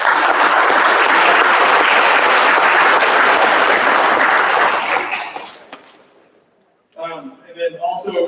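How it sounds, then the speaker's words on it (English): A football awards crowd gives the parents a loud, dense round of applause that holds for about five seconds, then tapers off into silence before a voice begins speaking. "Let's give the parents a round of applause"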